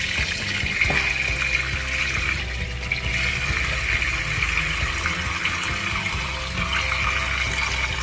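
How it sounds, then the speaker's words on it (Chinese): Tap water runs steadily and close by while frozen prawns are rinsed under it to thaw the ice, a continuous splashing flow with no talking. "我们冲水呢，就是给它这个冰呢容易融化。"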